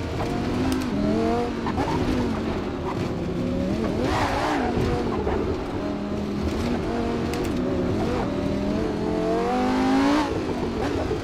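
A Lamborghini Gallardo GT3 race car brakes and downshifts on a bumpy hillclimb rallysprint course at Hondarribia, its engine note rising and falling under wind and road roar, with brief tire squeal.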